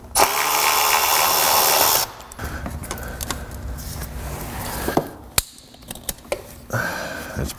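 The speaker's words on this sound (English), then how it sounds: "I just put my screwdriver into this and pulled it free." A screwdriver pries a plastic clip free during front-end removal on a Mini Cooper S R56: a burst of harsh scraping, then close scattered clicks and one sharp snap as the clip lets go.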